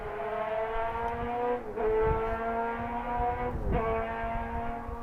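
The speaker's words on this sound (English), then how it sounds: "that car was really going for it" A car engine revs hard and roars steadily, its pitch climbing and dropping twice as it shifts, loud and fairly close, with no voices.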